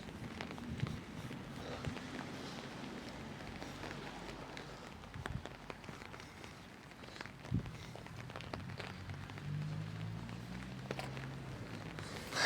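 Steady rain falls outdoors during heavy, windy weather while someone walks through it, footsteps blending into a constant hiss of drops that continues throughout with a few louder knocks.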